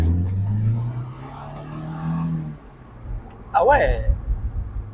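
Mercedes-Benz SLK R170 roadster pulling away in first gear, its engine note climbing steadily before easing off, followed by a short exclamation from a person nearby.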